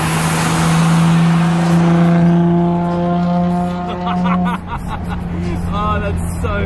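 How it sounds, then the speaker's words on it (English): A Nissan R33 Skyline with a straight-pipe exhaust holds a loud, harsh rev with a sustained droning tone that drops away, then shorter blips follow while people talk and chatter nearby. "It sounds like a diesel truck with that straight pipe exhaust"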